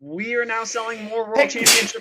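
A sharp sneeze breaks in near the end, landing on top of a man's ongoing speech.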